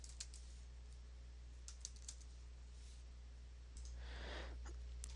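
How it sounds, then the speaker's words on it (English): A computer keyboard is being typed on, heard as sparse light clicks over a steady hum, faint and close, with a soft rustle near the end and no talking. "We'll just type in sign up now"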